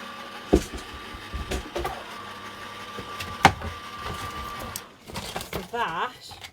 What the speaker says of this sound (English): okay, so we're just running it through the machine.